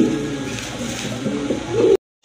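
Pigeons in a seller's collection coo in short, close, throaty bursts for about two seconds before the sound cuts off abruptly.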